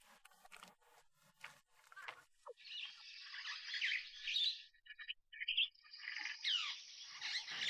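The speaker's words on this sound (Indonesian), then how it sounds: "Dengar-dengar nih burung. Rame bener." Loud, raucous bird squawks and chirps crowd together, overlapping in a busy burst after a few softer calls, with some faint voices at the start.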